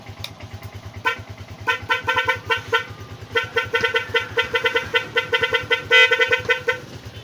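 A Rusi 125 motorcycle horn beeps repeatedly in short bursts, close and loud, over the rapid putter of an idling engine.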